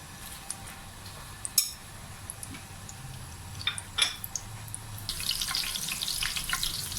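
Low steady sizzling of onion and garlic frying in oil for dal, with faint clinks and a brighter hiss rising toward the end.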